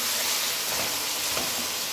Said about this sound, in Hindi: जी तो अभी गोश्त जो है वो फ्राई होगा